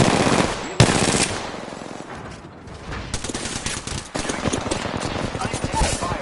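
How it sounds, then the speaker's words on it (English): Sustained automatic gunfire in the video game Apex Legends, rapid bursts of shots rattling almost nonstop, loud and close, with a brief lull before the firing picks up again. "I'm taking fire, friend."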